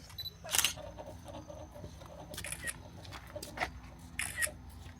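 A camera takes photos at a busy tourist spot on Jeju Island, giving several quick, sharp shutter clicks spread through a soft murmur of background activity.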